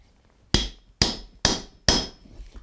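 Four loud, evenly spaced hammer blows drive a punch through hot steel while forging a bottle opener, each a sharp ringing metallic strike up close with a short decay.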